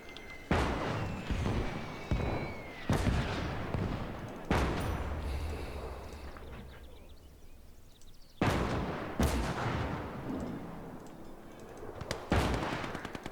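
A makeshift field gun in the Conquest Enhanced video game fires repeated heavy blasts, each a sharp loud report with a rumbling tail, about five or six shots spaced irregularly over the stretch amid battle noise.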